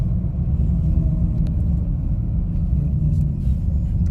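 A 1966 Mercury Cyclone drag car sits idling at South Mountain Raceway, a deep, steady, loping engine rumble heard up close and unbroken by talk.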